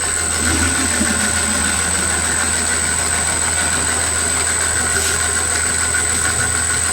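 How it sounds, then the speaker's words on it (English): A Marksman smart pump starts up and runs in a tank installation, giving a loud, steady mechanical hum with a constant whine that holds unchanged from start to finish, with no voices. "So now if we start the pump"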